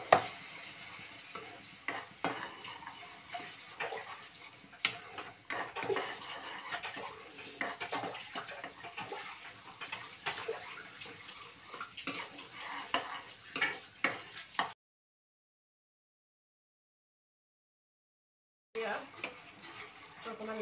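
Spices for a simple egg curry stirred and fried in a pan, busy scraping and clinking of a spoon against metal over a soft sizzle, then a brief silence before stirring resumes.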